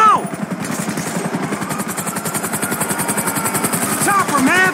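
A helicopter in Grand Theft Auto V beats loudly with fast rotor chopping throughout, mixed with bursts of gunfire and shouted voices during a heist mission.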